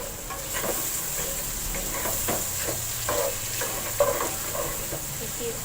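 Onions frying in oil after okra was fried in the same pan, a steady sizzling hiss with occasional stirring scrapes and spatters, close and continuous without speech.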